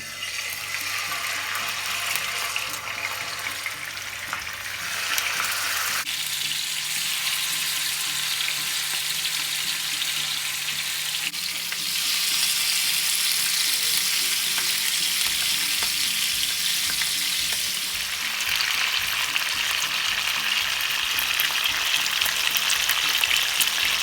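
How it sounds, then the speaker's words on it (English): Salmon steak pieces fry in oil in a hot pan, a loud, continuous sizzle that flares brighter as the fish goes in and keeps crackling steadily with no voices. "now we're going to fry the salmon. So to my hot frying pan,"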